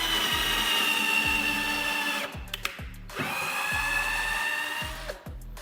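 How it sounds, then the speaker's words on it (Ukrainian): Cordless screwdriver running at second speed, a loud high whirring motor that drives steadily for about two seconds, pauses with a few clicks, then whirs again before stopping. "Можна ще попробувати на другій швидкості."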